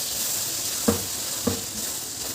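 Eggplant bharta sizzles steadily in hot oil with a constant hiss, and two distinct scraping stirs cut through about half a second apart.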